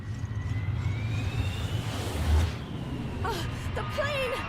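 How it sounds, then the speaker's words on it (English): An airplane in the video game Resident Evil Revelations drones faintly overhead with a low engine hum and rising whine, followed by thin chirping tones, all fairly quiet. "The plane!"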